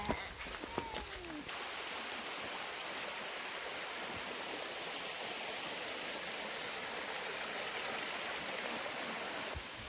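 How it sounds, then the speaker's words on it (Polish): Heavy rain pours in the mountains, a dense, steady hiss that holds evenly throughout, with brief handling clatter at the start and end and no speech over it. "Pogoda masakryczna. Leje!"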